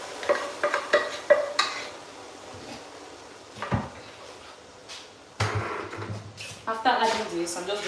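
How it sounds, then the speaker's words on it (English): A spoon stirs stock-soaked rice in a pot while preparing Nigerian meals, giving scraping knocks and clinks against the pan with faint sizzling and a few kitchen bumps. "After adding this, I'm just going to stir it."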